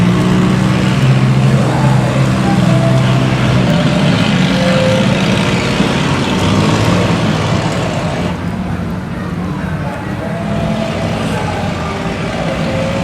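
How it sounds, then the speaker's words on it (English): A school bus engine runs at the West Jordan Beet Down 2018 car show, a loud, steady rumble that holds throughout with only slight dips in intensity. "The school bus sounds pretty good."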